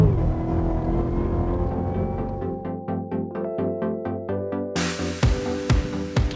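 A 2017 Cadillac CTS-V engine roars through acceleration, its pitch climbing steadily through the gears. Sharp gear-change pops and a burst of loud high noise follow near the end, with no talk.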